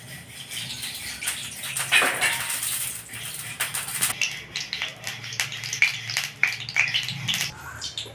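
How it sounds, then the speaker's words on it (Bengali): Oil poured into a hot kadai for cooking chicken, a soft sizzle and clinks of metal utensils against the wok nearby, with scattered clatters and no talk. "কড়াই গরম হয়ে গেছে কড়াই আমি তেল দিয়ে দেবো"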